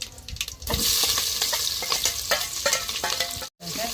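Onions frying in oil and being stirred in a pan for chicken fry piece biryani, a loud continuous sizzle broken by scraping stirs, with a brief silent gap near the end.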